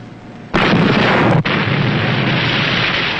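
A signal rocket flare fires from a submarine, a sudden loud whooshing burst that holds as a broad roaring hiss for several seconds, with a brief dip partway through.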